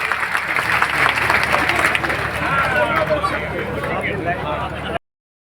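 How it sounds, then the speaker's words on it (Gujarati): A crowd at a public thanksgiving rally bursts into loud, dense applause up close, with voices and crowd babble mixed in until the sound cuts off abruptly. "એકવાર જોરદાર તાળીના ગગડાટથી આપણે બેનને વધાવી લઈશું."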